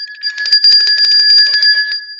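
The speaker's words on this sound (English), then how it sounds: "are you waiting for the bell?" A bell rings steadily for about two seconds with a bright, sustained metallic tone and rapid repeated strikes, close and loud, with no talking over it.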